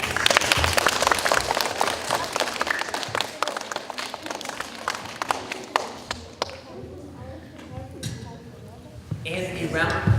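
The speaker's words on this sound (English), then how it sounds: "And a round of applause," Sharp, scattered clapping from an audience at a science museum presentation, strong at first and thinning out into sparse claps, with a presenter's voice cutting in at times.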